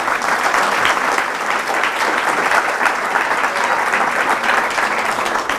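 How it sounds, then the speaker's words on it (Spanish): A church congregation applauding loudly and steadily during a Catholic sermon on the Virgin Mary, a dense sustained wash of many hands clapping close by. "Fuerte ese aplauso al Señor."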